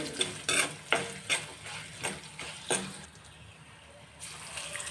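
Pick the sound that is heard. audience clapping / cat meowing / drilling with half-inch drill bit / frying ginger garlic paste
frying ginger garlic paste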